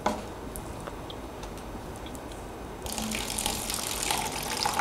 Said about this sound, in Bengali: এখন আমি আপনাদের এই মেশিনটির মাধ্যমে তৈরি করা রসগুলো ঢেলে দেখাবো